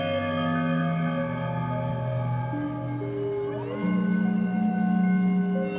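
A U-he Zebra 3 synthesizer preset with two oscillators sustaining layered, buzzy tones that shift pitch between held notes, with a reverberant wash trailing behind them.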